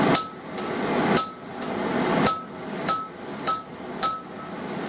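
Sharp hammer blows drive a punch into hot steel while forging a pair of tongs: about seven ringing strikes, spaced roughly half a second to a second apart, each close and loud with a bright metallic ring.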